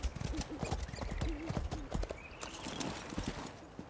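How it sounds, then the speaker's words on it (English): Horse hooves clip-clopping close by in the Elder Scrolls Online video game as a summoned mount arrives, a quick irregular run of hoof falls with a brief whinny, fairly quiet overall. "Love how we whistle and horses instantly come to our side."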